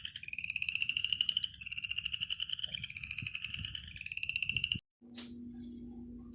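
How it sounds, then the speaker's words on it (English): Frogs give a rapid, pulsing trill of croaks in repeated bursts, out in the open in February. A different, higher single call follows after a brief pause. "Frogs are active and happy in February."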